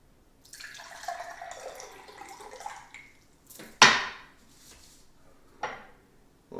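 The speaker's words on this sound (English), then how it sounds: "I'm going to pour it over the sink" Chlorinated tap water poured over onions in a sink: a soft splashing pour for a few seconds, then a sharp close knock and later a fainter clunk, with quiet in between.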